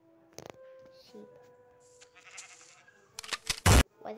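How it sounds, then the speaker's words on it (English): Short sheep bleats from the Minecraft video game come and go amid scattered quiet game sounds, ending in a brief loud burst. "Sheep."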